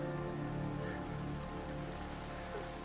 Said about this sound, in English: The rain begins to let up.